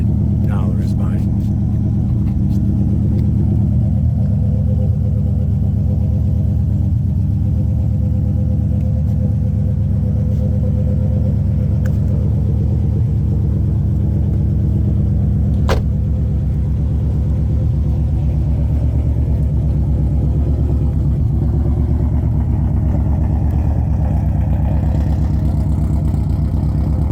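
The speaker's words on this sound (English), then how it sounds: "Exhaust shot here." A modified 2005 Subaru STI making 505 hp idles and rumbles through its exhaust, a loud, steady low throb that holds nearly unchanged throughout, with no talking.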